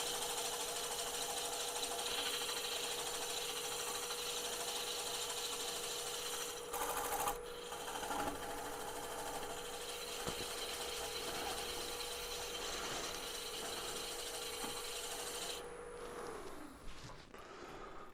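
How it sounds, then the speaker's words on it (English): A wood lathe spins in reverse, turning an off-centre handle with a steady motor whine and hum. It runs evenly, then winds down and stops near the end, with no talk. "I'll just put the lathe in reverse"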